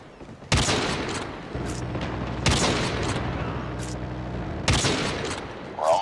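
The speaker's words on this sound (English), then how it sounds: "Be advised, hostile sentry gun spotted." Sentry gun in a video game firing three loud, close bursts of rapid gunfire, each trailing into a booming rumble, with no talk.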